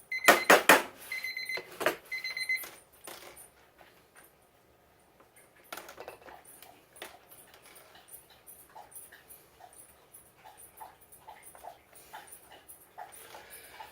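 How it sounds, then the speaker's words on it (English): A kitchen timer being set gives a flurry of quick electronic beeps at the start, then a run of scattered soft ticks and clicks as it is adjusted, close by and without talk. "I'm fighting with my timer there, if you were wondering."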